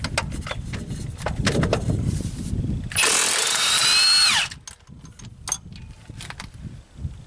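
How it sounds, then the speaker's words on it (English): Milwaukee M18 Fuel 2763 cordless impact wrench hammering loose the crank bolt on a 1989 Honda Accord, a loud sustained rattling burst of about a second and a half rising in pitch, with quieter shop noise before and after. "what I'm going to be removing is the crank bolt on a 1989 Honda Accord with the Milwaukee M18 Fuel 2763-22"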